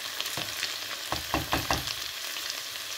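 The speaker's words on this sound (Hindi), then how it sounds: "आप इसको कंटेनर चम्मच चलाते हुए इसको अच्छा सा फ्राई करना है" Okra (bhindi) frying in hot oil in a kadhai, with a steady low sizzle and a few scraping spoon strokes as it is stirred; no voices.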